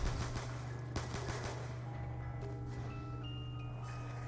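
Rapid gunfire bursts from Black Ops 2 Zombies on the Buried map, fast stuttering shots in the first second and a half that give way to a steady game hum and faint electronic tones.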